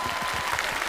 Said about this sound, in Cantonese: 俾啲掌聲伍 Sir 啦